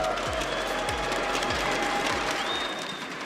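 An esports arena crowd at a Dota 2 match between Tundra Esports and Team Falcons cheers and claps in a loud, steady roar that fills the whole stretch without pause.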